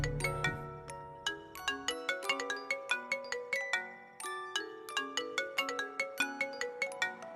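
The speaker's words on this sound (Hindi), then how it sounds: "उसका ही फोन है" A mobile phone rings in a Hindi-dubbed South Indian film scene, playing a bright, repeating melodic ringtone of quick chiming notes, clear and prominent with no voices over it.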